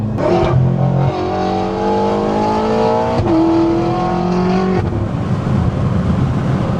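A BMW M5 F10 with a Stage 2 tune accelerates near the microphone, its engine note climbing through the revs, dropping at a gear change and rising again before easing off. Loud and alone, with no talking.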